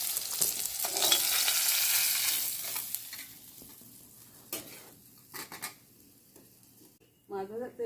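Tangra fish fry in mustard oil in a pan, a loud sizzle at first that fades, broken by stirring and clinking of a utensil against the pan, with a brief voice at the very end.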